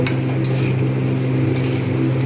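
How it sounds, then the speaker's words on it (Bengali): Boiled cauliflower fries in a hot pan with a loud, close, continuous sizzle, while a utensil stirs and scrapes against the pan a few times. "বয়েল করা ফুলকপি এগুলো ভালো করে আমি কিন্তু এর সঙ্গে ভাজব"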